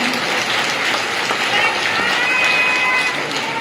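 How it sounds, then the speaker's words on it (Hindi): A crowd of devotees at a devotional gathering claps loudly and continuously, a dense, sustained burst of applause filling the space with no clear gaps. "जरा जोरदार तालियां"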